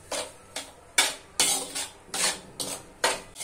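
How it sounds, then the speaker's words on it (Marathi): Semolina dry-roasting in a pan with a spoonful of ghee over a low flame, heard as a series of about eight scraping stirs of a spoon against the pan, each a short rasping sweep, close and clear without talk. "तो बदलेपर्यंत आपल्याला रवा मंद गॅसवर भाजून घ्यायचा आहे"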